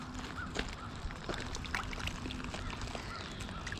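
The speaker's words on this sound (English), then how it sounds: "He's making kind of like squawking sounds." A caught fallfish squawks during a stream fishing trip, making faint, brief squeaky calls over the running water and outdoor background noise.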